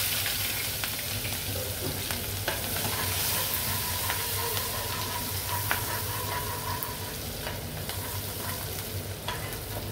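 Chopped onion frying in a pan for a korma, a steady close sizzle with soft crackles and occasional stirring clicks throughout.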